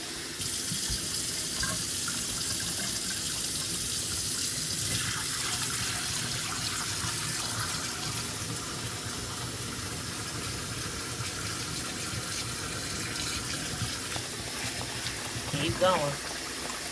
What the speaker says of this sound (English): You're going to wash all of the starch off of that rice. I'm washing it in cold water.